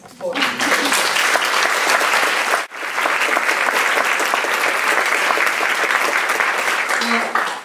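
An audience at a question-and-answer session breaks into sustained, loud applause, dense clapping that dips briefly partway through and then carries on strongly to the end.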